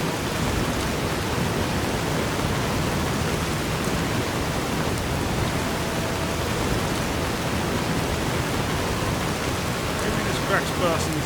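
Heavy rainstorm in Fallout New Vegas, a loud, even wash of downpour that holds constant for about eleven seconds, with a few faint higher ticks near the end.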